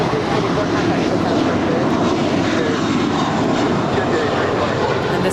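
A JetBlue Airbus A321 jet at LAX produces a loud, continuous broadband engine roar that holds steady throughout, with a faint voice in the background.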